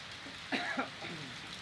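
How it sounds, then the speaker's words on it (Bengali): A constant wash of heavy rain in Dhaka, Bangladesh, fills the background, interrupted by a quick cough close by. "সত্যির বৃষ্টি শুরু হয়ে গেছে"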